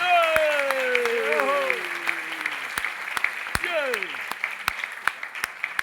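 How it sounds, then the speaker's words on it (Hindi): Applause from a gathered audience at a spiritual talk in Vrindavan, with sharp individual claps standing out over a sung or spoken voice whose pitch glides through the first half. "देखो तालियां उठाइए जोरदार"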